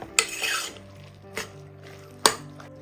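Egg curry masala stirred in a pan, heard as three distinct metallic clinks and scrapes of a spoon against the pan, spaced about a second apart over a low, quiet background.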